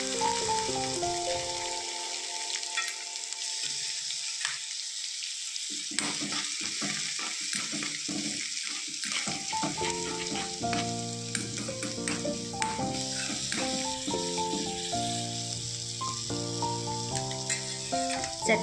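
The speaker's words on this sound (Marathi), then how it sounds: "आता आपण क्रश केलेलं लसूण याच्यात टाकूया" Crushed garlic frying in hot oil for a crispy khichdi tempering gives a steady, loud sizzle and crackle, with occasional stirring scrapes and a tonal hum that runs underneath throughout.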